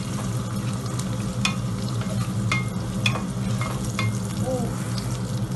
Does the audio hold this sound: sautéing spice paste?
yes